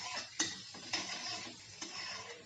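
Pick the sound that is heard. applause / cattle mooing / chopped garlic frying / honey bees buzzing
chopped garlic frying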